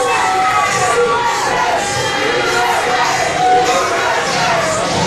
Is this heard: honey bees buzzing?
no